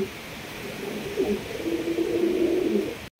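Pigeons coo in a continuous low, throaty murmur, close and steady for a few seconds before a brief cutout; these are pigeons kept for sale, including a jet-black Mukhi pair.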